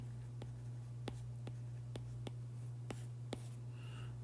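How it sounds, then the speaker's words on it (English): Chalk or marker taps and short strokes on a board while writing out a physics equation, a series of about eight evenly spaced sharp ticks over a strong steady mains hum, close and fairly quiet. "I'll write it up here."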